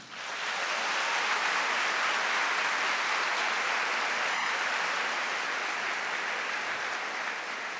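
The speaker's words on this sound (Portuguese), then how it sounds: "Então aplauda o teu Senhor." A church congregation at a Catholic mass led by Frei Gilson bursts into sustained, dense applause, a loud wash of many hands clapping together for several seconds with no voices standing out.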